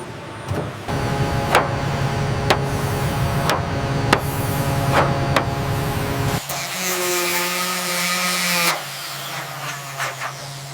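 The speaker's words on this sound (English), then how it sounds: "Rivets installed at exact spacing." Riveting tools installing rivets on a Boeing 787 airliner in a large aircraft factory, sharp repeated clicks and bangs over a steady machine whine, then a louder whirring tool burst, all close by.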